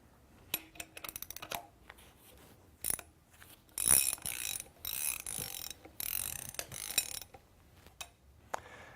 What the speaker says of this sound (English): We will use the restrictor bar assemblies to push the bar forward to its full stroke capability